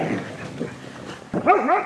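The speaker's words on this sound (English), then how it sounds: "Careful, Selkie, stop barking." A dog gives a short whiny yelp and bark near the end, close by, after a stretch of low muffled rustling.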